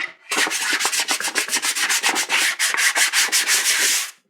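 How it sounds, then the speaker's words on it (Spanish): Sandpaper rubbed back and forth over a Powkiddy A12 handheld console part, about twenty quick rhythmic rasping strokes, close and loud with no talking. "se puede cortar la lija al tamaño que sea de nuestra comodidad"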